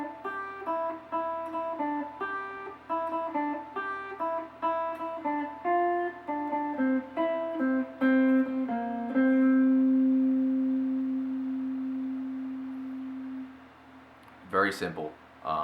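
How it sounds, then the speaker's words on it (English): An 8-string guitar plays a melody an octave up as a slow run of clean single notes. It ends on one long sustained note that fades, followed by a brief scrape of handling noise. "So the melody, as it's written an octave up where we're going to play it, it's going to sound like this."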